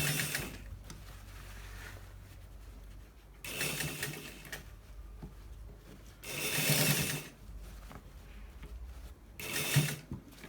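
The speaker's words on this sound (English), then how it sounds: "So we are stitching it on top of the collar" Sewing machine stitching around a shawl collar, running in four loud bursts of rapid mechanical whirring separated by quieter pauses, with no talking.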